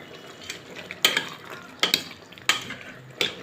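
Taro pieces going into a pan of fresh tomato juice and paste, followed by a few sharp spoon scrapes and clinks against the pan over a quiet background, close and without speech.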